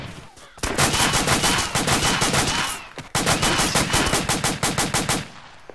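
Loud, rapid automatic gunfire in the video game ARMA 2, two sustained bursts of fast repeated shots separated by a brief pause, dense and close.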